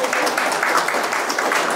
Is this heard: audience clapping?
yes